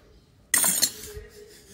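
A sharp, bright clatter of metal cutlery against a plate as food is cut, a couple of quick clinks close by, then a quieter rustle.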